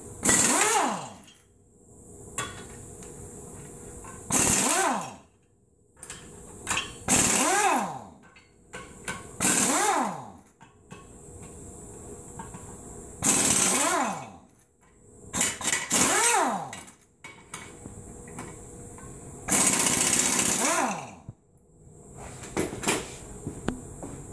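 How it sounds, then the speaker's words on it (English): Air impact wrench loosening brake bolts on a 2005 Chevy Colorado during a rotor and hub swap, several loud rattling bursts of a few seconds each, separated by quieter gaps with faint background noise. "I always use my impact for this"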